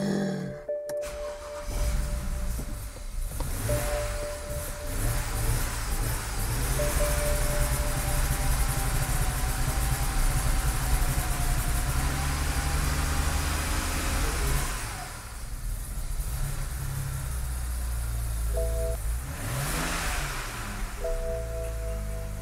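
A BMW E90 335i twin-turbo N54 engine idles roughly and loudly on its first start after reassembly, with a steady low rumble and uneven surges that rise and fall twice near the end.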